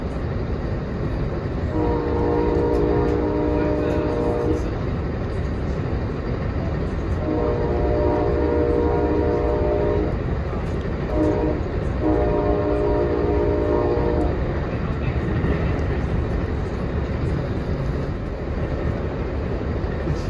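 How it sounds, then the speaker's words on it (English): CT Rail train 4407 sounds its horn during a Springfield to New Haven ride, three long, loud blasts spaced apart over a steady rumble of the moving train. "without a doubt the finest horn blowing virtuosity I've heard in a long, long time."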